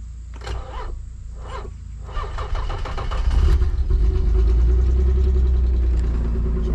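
Nissan 300ZX engine starts after a few rhythmic cranking bursts, then settles into a loud, steady, close idle with a low rumbling drone.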